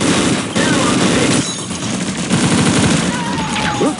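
Rapid gunfire in Unreal Tournament 2004 with the Ballistic Weapons mod: loud, sustained automatic bursts rattle almost nonstop, broken only by brief pauses, with voices talking underneath.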